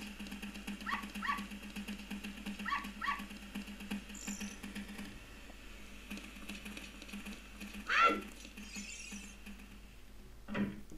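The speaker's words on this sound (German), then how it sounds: "Da hinten ist noch ein weißer Hund." A white dog in The Legend of Zelda: Ocarina of Time gives short, sharp game barks and yips in a few spaced bursts over a steady low background hum.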